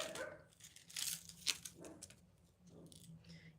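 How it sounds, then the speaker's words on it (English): A dog makes short barks and whimpering yips in a home, loud at times with quiet gaps between the bursts and no talk over them. "When my dog starts growling, you already know."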